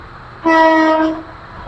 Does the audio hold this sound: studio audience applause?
no